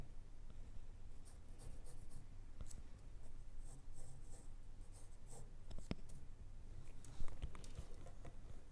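Pencil drawing on paper for a technical orthographic projection drawing, faint scratchy strokes and light taps in quick irregular bursts, close and quiet against a soft room hiss, no talking.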